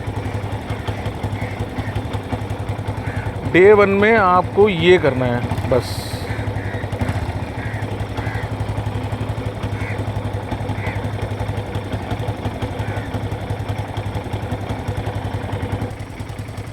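A motorcycle engine runs at a steady low idle for the whole stretch, with someone talking briefly over it partway through.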